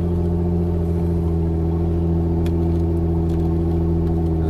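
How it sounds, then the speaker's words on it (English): A Jeep Wrangler idling without a muffler in slushy snow, a loud, steady, throaty low drone with strong even humming tones and no talking. "I feel like I'm disturbing nature with this lack of muffler."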